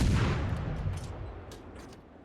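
Heavy naval gunfire from a ship in the World of Warships game: a loud opening blast and boom that rumbles and slowly fades over about two seconds, with no talk.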